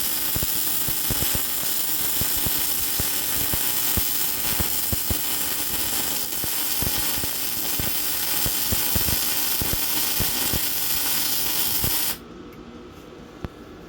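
Stitch welds on a Cub Cadet give a dense, loud, continuous crackling buzz with sharp pops that runs for about twelve seconds, then stops abruptly, leaving a low hum.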